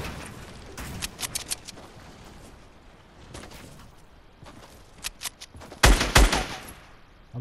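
Video game gunfire aimed at bushes, rapid bursts of sharp shots spread through the clip, loudest in a dense volley near the end, over a steady background of game noise.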